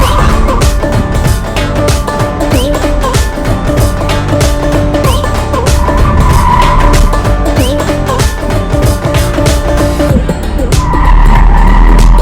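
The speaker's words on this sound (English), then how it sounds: "Going to make these tires squeal, foot to the floor, cut the corners as tight as possible" An Audi Q5 pushed hard through tight corners on a race circuit, with loud tire squeal and skidding over a steady engine drone, sustained and close throughout.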